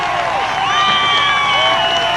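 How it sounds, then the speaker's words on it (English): High school football crowd on its feet for a standing ovation at Memorial Field, a steady roar of cheering and applause with whistles rising above it. "It's a standing ovation."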